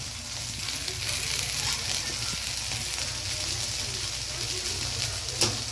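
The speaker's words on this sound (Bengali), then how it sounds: "তেল দিয়ে ভাজছি এটাকে, সয়াবিনটাকে" Soybean chunks fry in hot oil with a steady, close sizzle that stays even throughout, broken by one brief sharper crackle near the end.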